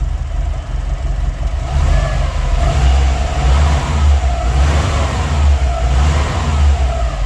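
An old, rare car's engine, long left standing, runs lumpy and loud close by, a steady uneven rumble that swells with light revs and then settles, with no voices.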